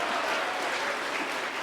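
An audience applauds at a Hindi comic poetry gathering: continuous, even clapping from many hands fills the whole stretch, moderately loud and with no voices on top.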